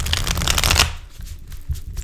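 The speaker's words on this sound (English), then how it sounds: "Let me just give this deck a really good shuffle" A brisk riffle of a tarot deck being shuffled, loud and close, followed by softer handling taps.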